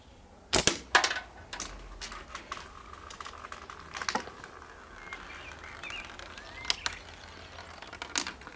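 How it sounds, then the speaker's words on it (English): Slingshot ammo rolling back into an auto-return catch box, a series of light, sharp rattles and clicks scattered over several seconds, fairly faint against a quiet background. "as you can hear, the ammo is coming back"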